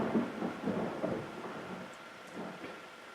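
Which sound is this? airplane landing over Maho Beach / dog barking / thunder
thunder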